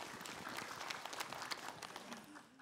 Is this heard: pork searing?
no